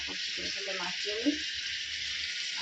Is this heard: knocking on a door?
no